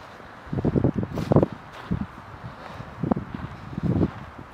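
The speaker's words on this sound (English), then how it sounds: "Sorry about the wind, guys." Wind gusts through woods on old trail roadways behind a cemetery, buffeting the microphone in uneven rumbling bursts, with no voices.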